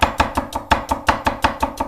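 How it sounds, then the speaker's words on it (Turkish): An onion is finely chopped with a knife on a board, giving about ten crisp, evenly spaced knocks in a quick steady rhythm, close and clear with no talking. "Ardından şöyle ince ince doğruyorum bunu."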